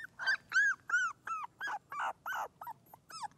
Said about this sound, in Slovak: Počula, ako by niekto kňučal.